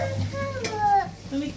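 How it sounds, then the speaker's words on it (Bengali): Meat stir-fried (kosha) in a pot, a brief burst of spoon scraping and clattering over a low sizzle, close by, with faint voices in the background. "এই যে এখন মাংসটা কষায় নিব"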